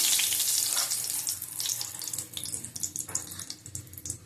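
Potatoes and a bay leaf hit hot oil in a pan on a gas flame turned low, for a green banana and potato curry, giving a loud, continuous hissing sizzle throughout.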